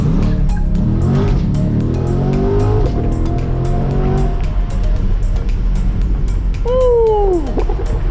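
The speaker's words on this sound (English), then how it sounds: "Do a quick little practice launch for you guys." A supercharged Ford Mustang GT350 revs and roars hard off the line from idle on the street, then a sharp tire squeal rings out near the end over steady engine noise.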